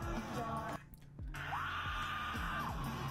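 A loud, strained scream rings out at a concert amid crowd noise and music, briefly dropping away before a long sustained yell.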